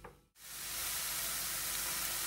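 After a brief pause, a steady loud sizzle of brown mushrooms frying in a hot pan fills the rest of the clip, close and continuous.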